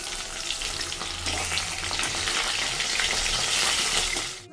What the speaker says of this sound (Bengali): তো চলো ওকে মাছ ভাজাটা দিয়ে দিই